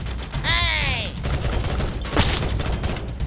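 Dense fusillade from a gang opening fire on the player in a snowy battle-royale game, a steady crackle of overlapping shots that carries through the whole stretch, with a whooshing sweep and a sharp hit along the way.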